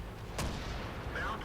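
Tank cannon shot aimed at an enemy tank's upper glacis in World of Tanks, fired from an M48A1 Tier 10 medium tank: a single sharp boom with a broad burst, followed by a rumbling tail and low in-game background noise.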